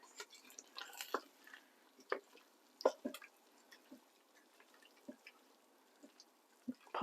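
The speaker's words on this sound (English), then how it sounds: "give it a really good stir" Beef stroganoff is stirred in a slow cooker. The thick, drying stew gives quiet wet squelches, clicks and soft drips at irregular moments, with a sharper scrape near the end.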